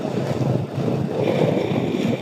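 A Honda Deauville motorcycle engine runs with a steady, buzzy, lawnmower-like drone, close and fairly loud, mixed with wind rush and no talking.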